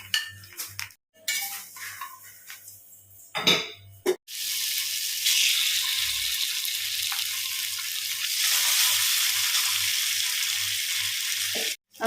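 Fish sizzles and crackles in hot oil, a loud continuous frying hiss after a few clinks and stirring noises at the start.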